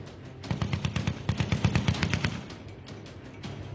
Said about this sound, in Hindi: पाकिस्तान की तरफ से फायरिंग जारी।